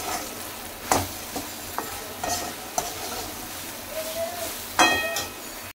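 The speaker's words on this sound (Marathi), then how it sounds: "आता सोयाबीन वडी आपण मस्त तेलामध्ये फ्राई करून घेऊया।" Soya chunks frying in oil and salt: a steady sizzle close by, punctuated by several sharp clinks and scrapes of a spoon against the pan as they are stirred, with no one talking.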